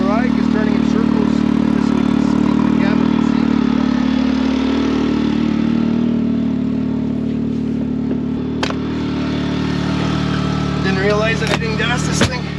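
A Can-Am Maverick X3 side-by-side engine drones steadily as it drives in circles in winter, a continuous loud mechanical rumble with some clatter and a voice briefly over it near the end.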